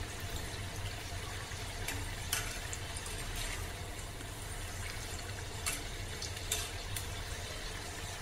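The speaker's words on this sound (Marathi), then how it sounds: "आता आपण पलटी करून एकसारखे तळून घेऊया।" Lonavala-style corn pakoras are turned and deep-fried in hot oil, giving a steady, close sizzling hiss with occasional faint clinks.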